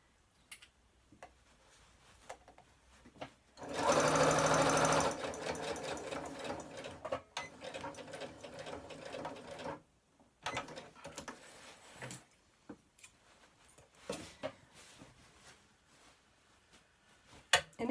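A sewing machine with a walking foot stitches fabric and fleece in a steady burst of rapid mechanical ticking for about two seconds, then in shorter intermittent runs with clicks and handling noises between them.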